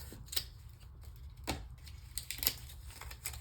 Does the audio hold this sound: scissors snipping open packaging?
yes